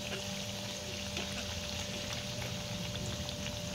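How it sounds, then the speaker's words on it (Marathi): Gram-flour vadi cakes fry in a pan of oil over a medium flame, giving a steady, close sizzling hiss that holds evenly throughout with no voices. "दोन्ही बाजूनी एकदम छान गोल्डन कलर येऊस्तोवर आपल्याला ह्या वड्या तळून घ्यायच्या आहेत"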